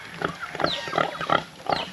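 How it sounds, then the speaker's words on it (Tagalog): A sow grunts and snuffles while rooting in a free-range pen on a small farm, several short close grunts in an uneven rhythm over two seconds. "Ito yung isang inahing baboy."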